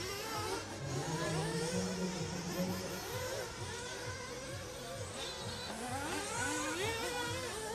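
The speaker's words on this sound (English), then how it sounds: "Yeah, some noisy cars here." 1/8-scale off-road RC race cars at a European Championship qualifying heat, a dense, continuous high-pitched swarm of small nitro engines buzzing and wailing as they accelerate and lift around the track.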